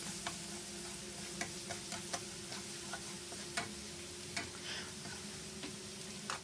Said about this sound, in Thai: เราก็มาตั้งกระทะเทน้ำมันลงไปครับ เมื่อน้ำมันร้อนได้ที่แล้วก็ ใส่กระเทียมลงไปผัดให้หอมเลยครับ